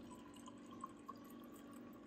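Cowboy coffee poured into a kitchen sink in Mexico makes a steady, close trickle of liquid, with a couple of brief splashes and no talking.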